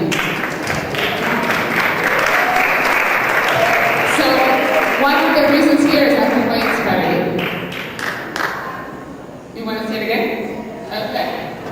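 A keynote audience at a Buenos Aires conference breaks into loud, sustained applause that stays dense for several seconds and then thins slightly toward the end, with cheering voices mixed into the clapping.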